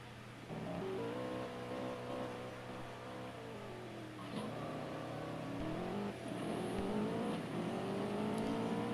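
A fast race car in the CSR2 drag racing game revs and climbs through its gears, its engine pitch rising and dropping at each shift. The engine sounds faint but steady throughout.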